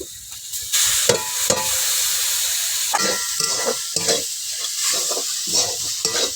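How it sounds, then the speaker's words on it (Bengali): Grated pointed gourd (potol) frying in a hot pan, with a steady, close sizzle broken by repeated scraping stirring strokes and no talk. "এবার দিয়ে দেবো গ্রেট করা পটলগুলো"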